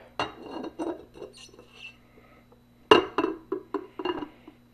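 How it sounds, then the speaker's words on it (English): A metal cover clatters onto a pot of chili with a cluster of clinks, followed a moment later by a sharper clang and several lighter rattles as the lid settles, close by. "Put a cover on it"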